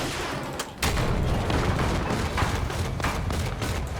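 Gunfire striking the side of a tank in Battlefield 6, a loud sustained clatter of shots with a heavy burst near the start and steady rattling throughout.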